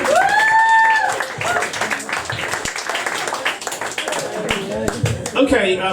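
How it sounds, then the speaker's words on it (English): Audience applause for poet Jim Sanderson at an open mic poetry night, clapping and cheering throughout, with a voice ringing out loudly over it at the start and talk mixed in. "More applause, please, for Jim Sanderson."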